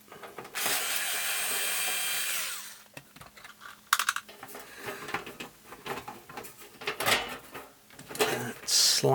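Screws driven into untapped metal holes on a Rotel RA-980BX amplifier chassis, a long sustained rasping grind followed by scattered clicks, ratcheting turns and handling knocks close to the mic.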